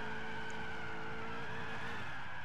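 A car engine in the video game Gran Turismo 6 drones steadily with a sustained tonal whine, fading into a rough e-brake skid-like scrape near the end, loud and continuous with no talk.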